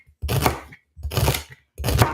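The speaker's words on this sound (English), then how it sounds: "we're gonna start by chopping up the celery, the peppers, and the onion, and throwing those into our pot" Three evenly spaced, crisp knife chops on a board as celery, peppers and onion are cut for lentil sloppy joes, each a short clattering burst with quiet gaps between.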